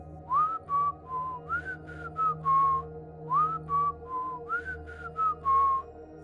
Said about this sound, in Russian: Каждую ночь свистящий насвистывал один и тот же мотив.